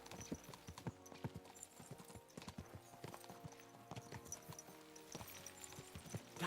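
Horse hooves clip-clop in a steady, busy rhythm in a video game, several horses spurred along at a wedding, with occasional louder strikes over a layer of background game sound and music.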